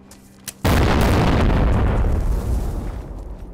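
A loud explosive charge blows a gate in the video game DayZ, a single sudden boom with a long rumbling tail that slowly fades, preceded by a faint small pop.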